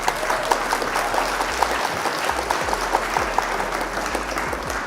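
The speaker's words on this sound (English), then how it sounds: "round of applause for an opponent" A crowd at a Flesh and Blood trading card game Royal Rumble event gives a round of applause for an opponent, a steady wash of clapping with crisp individual claps standing out, fairly close.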